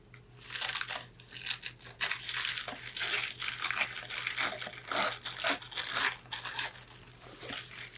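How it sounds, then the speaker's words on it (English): Paper being torn and crinkled by hand for an art journal: a close run of rough rips and crumpling bursts, irregular and repeated over several seconds, with no voices. "let's go ahead and tear some of this"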